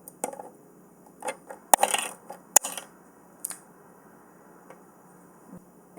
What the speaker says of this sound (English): Now the only thing to do is just add coins.